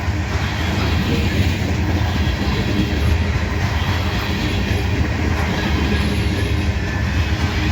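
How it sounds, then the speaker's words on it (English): A freight train of fully loaded grain hopper cars rolls past at close range, a steady loud rumble with faint rhythmic wheel clatter throughout. "We got a grainer, it looks like. Fully loaded grainer."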